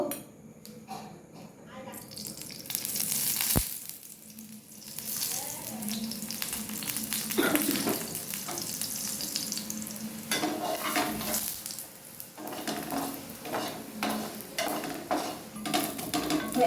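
An aloo paratha fries in oil in a pan, a steady sizzle with occasional clinks of a utensil and stirring sounds, plus a sharp knock early on; a person speaks intermittently.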